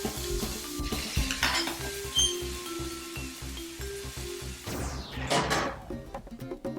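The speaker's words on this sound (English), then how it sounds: "If you brown too much at the same time, it'll saute instead of brown." Food browning in a medium-hot pan, with sizzling and frying under clinking and scraping of utensils against the cookware, close and moderately loud, then a brief louder clatter near the end, no talking.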